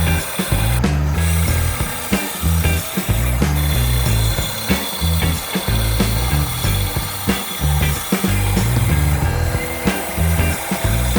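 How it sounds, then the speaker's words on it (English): Bandsaw cutting a block of basswood, a loud, steady, continuous buzzing grind that runs unbroken through the whole stretch with slight rhythmic fluctuations as the blade feeds through the wood. "Then, I took it to my bandsaw for a cutout,"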